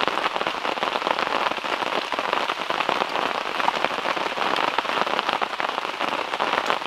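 Dense, steady patter of rain drumming on a tent flysheet during solo camping in a forest, loud and close overhead, continuous with no voices.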